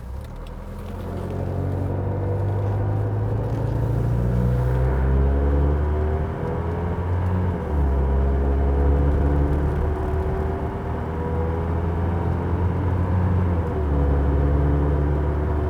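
A 1976 Mercedes W115 240D diesel car cruising at about three-quarter throttle near 50, with steady low engine drone and road rumble heard from inside the cabin, continuous and fairly loud throughout.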